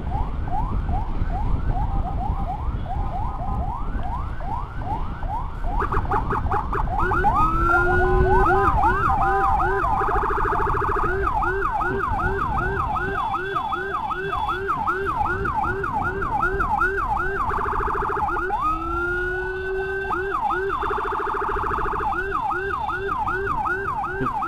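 An ambulance from Cikajang, Garut, carrying a referral patient, runs its siren while stuck in heavy Bandung traffic. The loud wail cycles steadily, switches to faster yelping bursts, then returns to the wail, with traffic rumble underneath throughout.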